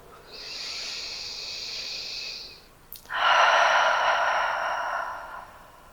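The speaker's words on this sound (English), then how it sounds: "take 3 breaths, inhaling through the nose, exhaling through the mouth" Two deep breaths during a yoga session: a long airy inhale through the nose, a brief pause, then a fuller, louder exhale through the mouth that fades out, close and clear.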